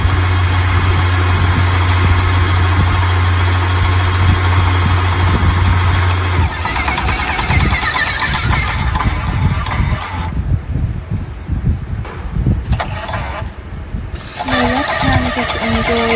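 An EA595S machine runs during water pressure testing with a loud, steady mechanical hum. A low drone drops away partway through, and irregular clattering and hissing follow.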